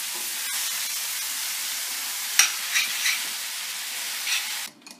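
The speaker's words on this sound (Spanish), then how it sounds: "Finalmente agregamos nuestro jitomate y dejamos dejemos que se sazone bastante bien." Tomato fries with a seasoned chicken filling in a pan, giving a steady soft sizzle and hiss with a few louder spatters and stirring scrapes near the end.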